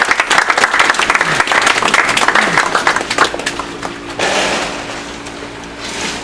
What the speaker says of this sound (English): give ourselves a round of applause